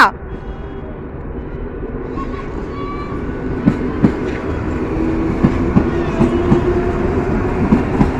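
A train rumbles past close by with steady clickety-clack rhythm on the rails, and people talk over the noise.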